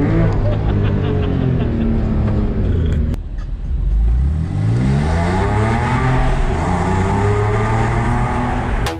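BMW 7 Series engine revving hard and close, a rising pitch that swells, dips briefly, then climbs again in long sustained pulls.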